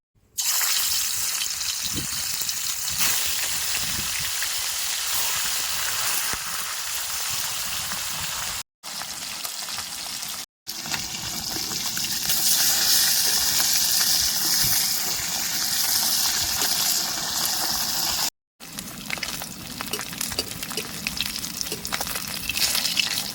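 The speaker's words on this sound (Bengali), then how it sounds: "কড়াই তেল গরম হয়ে গেছে এবার মাছগুলো দিয়ে" Loud, steady sizzling of river fish frying in hot oil in a wok until reddish, a continuous crackling hiss broken by a few brief cuts.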